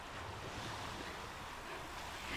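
Sea waves breaking beside a muddy jungle trail on Jomalig Island, a continuous broadband surf wash mixed with wind noise, steady and moderately loud with no voices.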